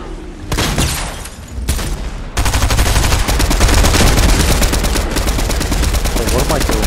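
Rapid automatic gunshots in a video game fire in loud, steady bursts with heavy booms, nearly continuous for several seconds after a couple of brief opening volleys.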